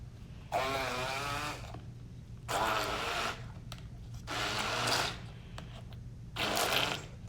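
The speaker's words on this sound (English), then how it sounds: "I have here a little handheld processor" A small handheld food processor runs in four bursts of steady whirring, blending a mango cake mixture to an even texture, each burst lasting roughly a second or two with brief quiet pauses between.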